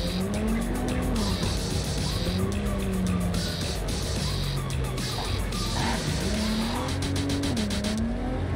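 A car in Cyberpunk 2077 slides through repeated handbrake turns, tires squealing in long wavering screeches over a constant engine drone, loud and close for several seconds.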